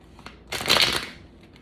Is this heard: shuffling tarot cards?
yes